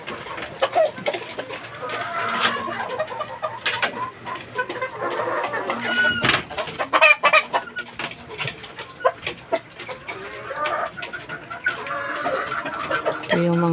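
Caged gamefowl chickens, roosters and chicks cluck and call repeatedly in a farm coop, a steady busy chorus of overlapping bird sounds with some brief noises in between.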